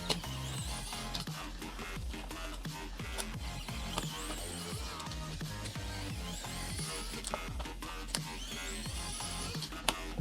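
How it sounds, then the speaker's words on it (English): Small screws are backed out of a JBL Flip 2 portable speaker during a teardown, with faint, close, continuous scraping and ticking from a screwdriver and no talking. "we have to take out these two screws."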